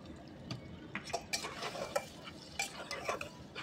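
Soaked lentils being stir-fried with garam masala in a pan, with a quiet stream of spatula scrapes and clinks against the metal over a soft sizzle, no voices.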